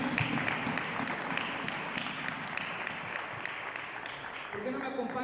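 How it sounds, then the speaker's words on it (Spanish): A church congregation applauds during a sermon: a dense, even wash of clapping from many hands, with voices mixed in. "Denle un fuerte aplauso a nuestro Señor Jesús."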